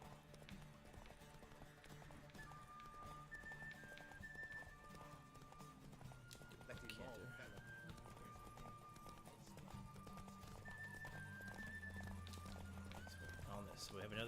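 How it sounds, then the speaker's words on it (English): Horse galloping in the video game The Witcher 3: rhythmic hoofbeats clip-clopping at a quiet level under game sounds, with occasional neighing and talk from a player over the top. "This horse does not have the stamina he needs."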